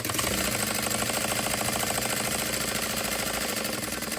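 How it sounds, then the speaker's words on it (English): A sewing machine runs a half-inch side seam on a small tote bag, a steady close mechanical whir with a fast rhythmic needle chatter that continues without a break throughout. "We're going to sew this side 1/2 inch."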